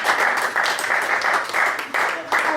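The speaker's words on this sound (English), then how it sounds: "Please give a round of applause for Mr." An audience applauds Mike Johnson with steady, loud clapping that carries for nearly three seconds and rises in short surges.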